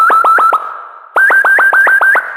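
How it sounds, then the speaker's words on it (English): Rapid synth blips, each a pure sine tone swooping quickly up two octaves within a sixteenth note, repeat in a steady pulsing rhythm, pause briefly, then resume in a longer run. "I created this pitch envelope where it comes up 2 octaves"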